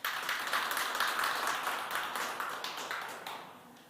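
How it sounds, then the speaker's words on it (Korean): Audience applause greets the head of MI Social Company as he comes up to present at a social venture forum, a dense, steady clapping that stays loud for about four seconds before slowly thinning out. "박수로 대표님 맞이하겠습니다"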